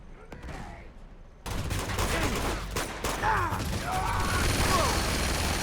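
Rapid gunfire erupts in Uncharted 2 after a quiet opening, with dense bursts of shots, ricochets and whizzing bullets continuing loud and close to the end.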